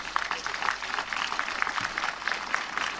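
An indoor audience at a book launch claps for historical reenactors, giving a steady, moderately loud round of applause with dense overlapping hand claps across the whole stretch.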